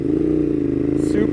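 A 2020 Ducati Monster 821 Stealth pulls away from a stop, its close engine holding a steady, throbbing drone with light mechanical clatter over the short stretch.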